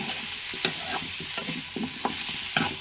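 Chili powder is stirred into radish curry frying in a pan, a soft steady sizzle with a series of close scraping strokes of the spoon at a loose rhythm.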